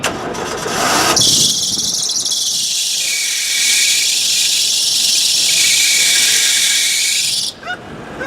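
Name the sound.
2003 Kia Spectra engine starting up with a squeal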